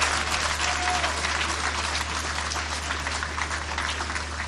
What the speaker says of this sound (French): je vous invite avec respect à applaudir très fort son Excellence Fachi Biton et Mama Fifi